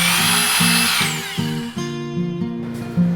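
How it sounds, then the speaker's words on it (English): A Bosch 90-degree right-angle drill whines at close range inside vehicle frame rails, its motor pitch stuttering up and down in quick pulses as it bites, then spinning steadily. "This Bosch 90-degree drill, I mean, it's the trick for working inside frame rails."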